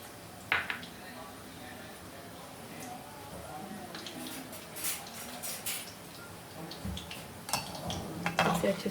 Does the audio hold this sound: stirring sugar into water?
yes